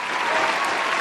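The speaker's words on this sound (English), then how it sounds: "Round of applause for that one." Applause sound effect on a podcast, a steady burst of dense clapping from a crowd, loud and close, lasting about a second with no talk over it.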